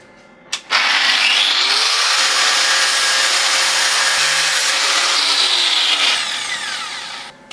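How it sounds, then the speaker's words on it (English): An angle grinder cuts through a piece of plastic to make a BMX chain stay guard, giving a loud sustained high-pitched whine that starts abruptly and runs steadily for about six seconds before winding down, with no speech. "I found that it's easiest to do with a grinder"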